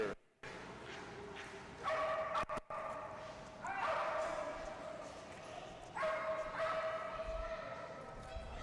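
A cattle dog named Oliver yips and barks in short repeated bursts, fairly close and moderately loud, over steady outdoor background noise.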